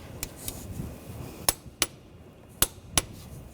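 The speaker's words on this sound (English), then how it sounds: "I'm going to torque this to 35 foot-pounds." A torque wrench tightens the main tensioner bolt on a 2000–2006 BMW X5 3.0L, giving several sharp, close metallic clicks at uneven intervals over quiet workshop background.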